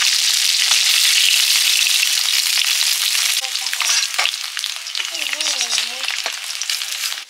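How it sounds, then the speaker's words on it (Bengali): Small puti fish fry lightly in hot oil in a pan, making a loud, dense, close sizzle that crackles continuously, with a brief voice under it. "মাছগুলো হালকা ভেজে তুলে নিচ্ছি"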